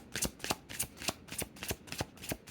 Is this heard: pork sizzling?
no